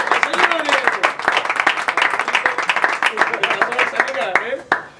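Studio audience on a television talk show applauding the guests, a lively round of clapping with voices speaking over it before it tapers off near the end.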